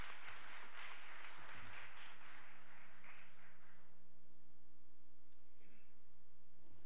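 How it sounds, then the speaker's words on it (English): A church congregation gives soft, distant hand-clapping that dies away after about four seconds. A quiet room hush with faint ticks follows. "Give them a hand clap of praise."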